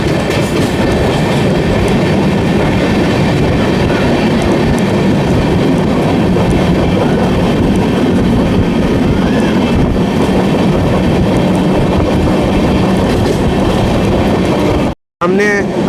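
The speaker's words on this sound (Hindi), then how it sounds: "कुम्हारी स्टेशन स्किप कर रहे हैं और फाइनली थोड़ा एक्सेलरेशन हो रहा है।" Amrit Bharat Express picking up speed as it runs through Kumhari station without stopping, a loud steady roar of wheels and carriages with rhythmic clatter filling the whole stretch before a brief break near the end.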